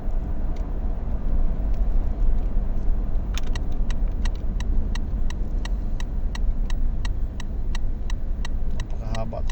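Cars sit in a long, slow traffic jam at about two in the morning, with a steady close engine rumble and a regular ticking like a turn signal clicking over it.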